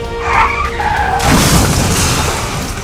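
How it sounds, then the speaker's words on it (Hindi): A motorbike skids along the road after a collision and slams into a wall, a loud scraping rush followed by a broad crash-like burst partway through. "टक्कर लगने के बाद बाइक सवार घसीटते हुए आगे दीवार से टकरा गया"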